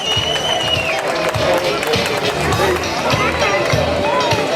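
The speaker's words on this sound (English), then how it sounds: "Let's keep giving them a round of applause." Applause and cheering from a school audience at a word parade, with a dense crowd roar of clapping mixed with chatter, excited voices and a few whistles, loud and sustained throughout.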